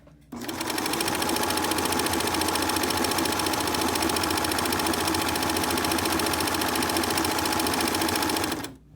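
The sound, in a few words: sewing machine stitching a fabric mask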